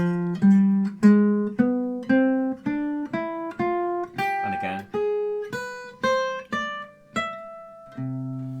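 A harmonic major scale played note by note on a plucked string instrument, each tone rising in steady rhythm, close and clear, with a brief spoken remark near the start.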